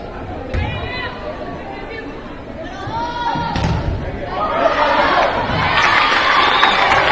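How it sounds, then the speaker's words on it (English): A volleyball crowd at a high school Pink Out Night match in the gym shouts and cheers, a loud, swelling clamor of voices with occasional ball thumps. "You can hear the crowd saying let that one go"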